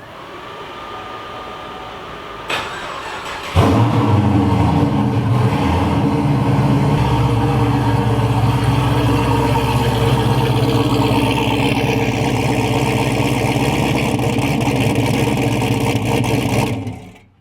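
A car engine with a TH400 automatic transmission starts with a brief crank, then settles into a loud, steady rumbling idle close by that holds until it cuts off.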